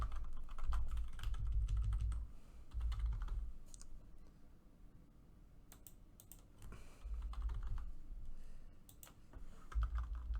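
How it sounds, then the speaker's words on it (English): Someone types on a computer keyboard in a quiet room, with bursts of rapid key clicks separated by short pauses, close and soft. "So we're just going to type in this information."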